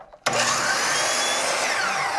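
Power saw trimming the end of a piece for a custom oil and vinegar rack, starting abruptly with a loud, bright, sustained whine that holds steady to the end.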